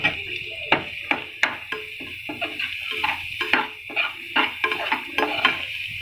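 Finely chopped onion stirred in a frying pan for a potato kachori recipe, a run of sharp scraping and clinking strokes of a utensil against the pan over a soft sizzle, close and fairly regular, with no talk.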